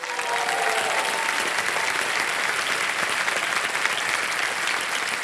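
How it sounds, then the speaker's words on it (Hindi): Studio audience on a TV quiz show bursting into sustained applause, a dense steady wash of clapping filling the room at full volume for several seconds without a break. "ताली बज जाए"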